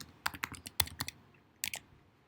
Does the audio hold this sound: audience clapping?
no